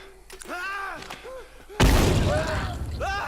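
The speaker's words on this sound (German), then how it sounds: "wir doch mal gleich die Bomb ausprobieren, die Nagelbomb" Voice-like chirps and tones sound, then a nail bomb in The Last of Us Remastered erupts in a sudden loud blast that rumbles away, with brief game sounds continuing after.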